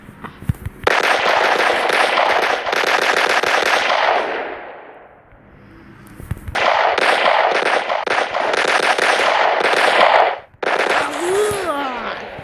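Rapid bursts of automatic gunfire from the mobile shooter game Standoff 2, loud and dense, with a brief lull mid-clip before the firing resumes and a short break near the end.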